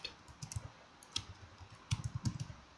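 Fingers type on a computer keyboard, giving quiet, irregular key clicks in small clusters with short pauses, close but faint, and no voices.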